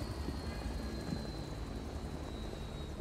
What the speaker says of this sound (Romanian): Ce are să aud? Un elicopter?